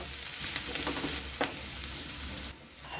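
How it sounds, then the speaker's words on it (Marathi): Finely chopped onion frying in a pan until reddish, a dense close sizzle with a few spatula scrapes and stirs, dropping slightly quieter near the end, no voices. "कांदा चांगला परतून घ्यायचा, छानपैकी असा लालसर होईस्तोवर कांदा फ्राय करून घ्यायचा."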